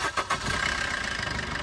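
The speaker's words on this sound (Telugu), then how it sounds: "సింగిల్ సెల్ఫ్లో అయితే వెహికల్ స్టార్ట్ అవుతుంది" A 2018 Maruti Suzuki Brezza LDi diesel engine starts on a single crank. Two or three quick starter pulses lead into a steady, rough diesel idle at close range.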